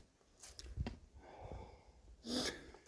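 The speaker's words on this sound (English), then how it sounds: "it's heavy breathing. It's bloody annoying." Heavy, rasping breaths close to the microphone, a few loud huffs and snorts with pauses between them, and nobody speaking.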